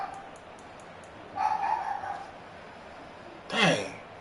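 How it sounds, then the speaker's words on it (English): Dogs bark twice in short bursts, faint and somewhat distant, separated by a quiet pause against low background hiss. "Dogs barking."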